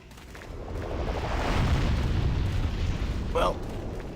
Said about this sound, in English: Okay, that's an explosion.